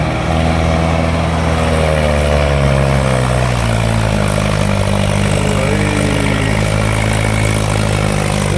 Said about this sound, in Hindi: महिंद्रा 575 का पावर देखते हैं ये चढ़ाई पार कर पाता है या नहीं।